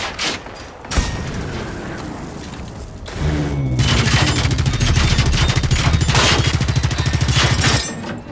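Exploding ticks blow up amid gunfire in the Generation Zero video game, with a sharp blast followed by a second thump and then a dense, loud stretch of rapid automatic fire that cuts off abruptly near the end.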